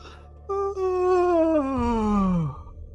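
A human voice imitates a cave moan: one long, low, sliding groan that starts steady, then bends downward and deepens before fading out.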